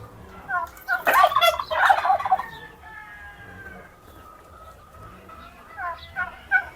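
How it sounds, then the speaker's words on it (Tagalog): Several noisy backyard turkeys on a provincial farm gobble nearby, a loud rattling chorus early on, then quieter scattered gobbles trailing off. "Ang mga pabo na maingay."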